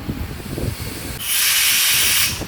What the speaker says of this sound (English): We're trying to do an air check right now.